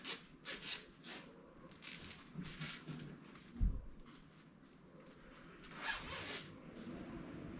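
A zipper on a baby bag is pulled back and forth in repeated raspy strokes, close and fairly quiet, with brief rubbing of fabric and one soft thump midway.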